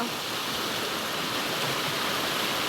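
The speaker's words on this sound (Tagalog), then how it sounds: "Malaki po ngayon ang sapa." A swollen creek rushes past as people wade across it, a steady broadband roar of flowing water filling the scene with no distinct splashes or voices.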